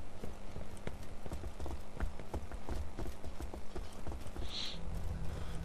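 Steady clip-clop of horse hooves in the video game Borderlands, in a brisk, even rhythm, fairly close, with a brief high whoosh near the end.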